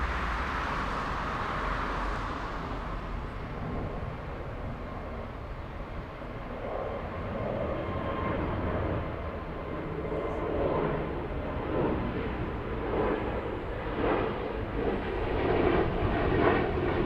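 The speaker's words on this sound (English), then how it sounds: "That's the big 777 flying back to Abu Dhabi." An Etihad Boeing 777 jet airliner departing Frankfurt airport, a steady far-off engine roar that slowly grows louder and rises over the whole stretch, with faint background noise.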